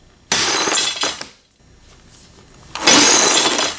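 Glass shatters loudly in two bursts as a hammer strikes a regular glass pane, a sharp crash followed by scattered tinkling debris, then a second heavy smash of breaking glass.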